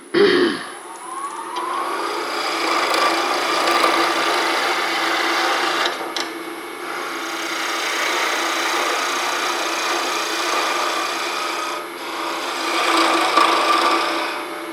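A wood lathe spins a wooden pen blank while a turning tool shapes it, producing a steady, loud rasping and whirring drone with a faint motor hum beneath, continuous for several seconds with small swells in scraping intensity.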